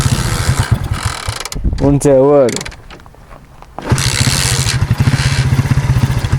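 A boat motor on the Loukkos river, being repaired, runs with a loud rough rattling chug, cuts out briefly while someone speaks, then restarts and keeps chugging close by.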